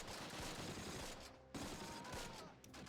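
Sustained gunfire and bursts of automatic weapons in the WWII tactical war game Close Combat: Wacht Am Rhein, dense and continuous with a brief lull midway before the firing swells again.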